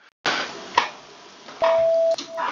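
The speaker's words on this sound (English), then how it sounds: "let me do the beep noise again" One steady electronic beep lasts about half a second, a clear mid-pitched tone set among brief clicks and bursts of background noise.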